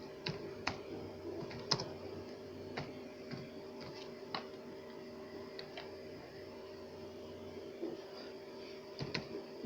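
Typing on a computer keyboard, quiet irregular key clicks in short bursts and single taps over a low steady room hum, close and faint.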